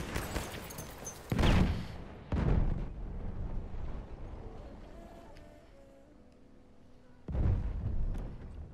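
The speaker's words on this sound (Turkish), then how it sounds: "Bomba atıyor." A thrown bomb goes off in Battlefield 1 on the Suez map, a loud low boom followed by rumbling debris; several more heavy blasts hit near and far amid ongoing battle noise, one large explosion swelling late.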